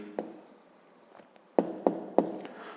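Pen or pencil writing on paper during a fifth-grade math exercise, with a few soft scratching strokes and then three crisp taps, close and quiet with no talk.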